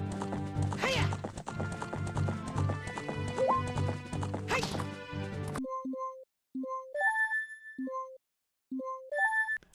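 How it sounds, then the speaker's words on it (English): Galloping wild horses in the Zelda Ocarina of Time Space World '97 beta give a quick, rhythmic clip-clop of hooves with a whinny, then give way to a sparse, tinkling melodic jingle with brief silent gaps. "there were supposed to be other horses, wild horses, running around, galloping about as well"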